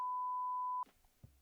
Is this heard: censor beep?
yes